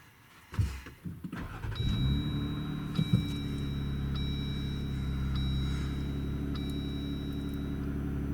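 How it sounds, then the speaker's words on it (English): A Jeep Gladiator fitted with a Magnaflow Rock Crawler exhaust cranks and fires up, then settles into a steady, deep, moderately loud idle rumble that holds to the end. "I'm gonna show you my reaction first and we'll start her up."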